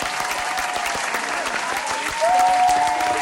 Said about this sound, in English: give yourself a round of applause right quick